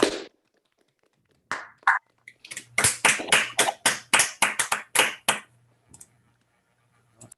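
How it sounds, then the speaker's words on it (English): Online audience members clapping for a math talk over video call, a scattered burst of separate, sharp hand claps from a few people, uneven and close, tapering off into silence. "let's clap for Peter."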